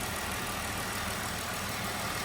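A Jeep Wrangler engine idles steadily after a fuel injector replacement, a constant even hum with no pauses or talk.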